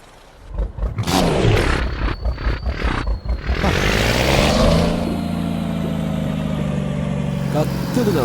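A heavy truck engine in Euro Truck Simulator 2 roars and revs in loud surges, then settles into a steady, growling drone, with a voice talking over the early part.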